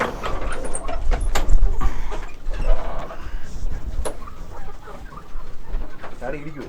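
Chickens cluck and call on a small poultry farm set among two acres kept for birds and animals, with bursts of nearby clucking and squawks alongside people talking.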